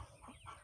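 A backyard rooster gives short clucking calls, fairly close and a little muffled, in a brief stretch with no talking.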